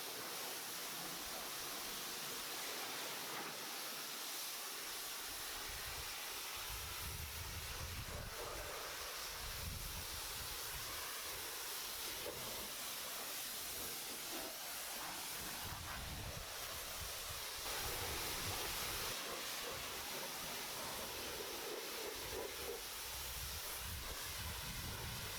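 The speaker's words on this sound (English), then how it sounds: "the vehicle is thoroughly pressure rinsed" A pressure washer rinses a Ford Focus RS with a continuous loud broadband hiss of spraying water, steady throughout with slight surges and shifts as the spray moves over the car.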